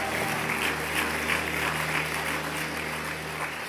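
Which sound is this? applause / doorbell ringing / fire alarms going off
applause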